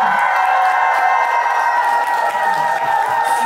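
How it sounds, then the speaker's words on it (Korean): A concert crowd awaiting an electronic string trio roars with sustained cheering and high shouts, loud and continuous, with some clapping beneath the massed voices. "기대되면 다시 함성!"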